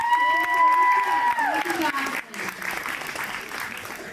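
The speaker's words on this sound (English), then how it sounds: "Let's give our contestants one more round of applause." An audience applauds contestants at a high school pageant, a crowd clapping under a sustained tonal voice or music in the first half, then continuing as steady applause alone.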